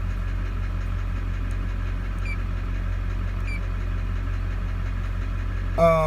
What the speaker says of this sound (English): So to confirm that noise, that tapping noise, to confirm there is a injector problem